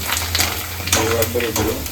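Colored bhungla frying in hot oil with a soft bubbling sizzle and stirring, while a voice talks over it.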